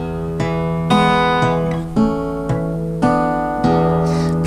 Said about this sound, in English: pluck the 6th string on the end